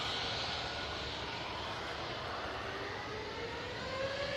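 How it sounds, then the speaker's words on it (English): An Easyjet Airbus A320 takes off for Geneva with a steady, close jet engine roar and a rising high whine, continuous and without voices. "Easyjet, A320, off to Geneva."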